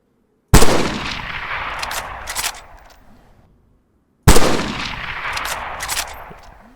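Two sharp, loud in-game gunshots in DayZ, several seconds apart, each followed by a rumbling echo and scattered crackles as it dies away.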